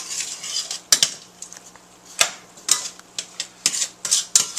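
A utensil stirs onions, parsley, salt and pepper in red wine in a pot, producing repeated clinks and scrapes against the metal over a soft background hiss, close and fairly loud, with no talking.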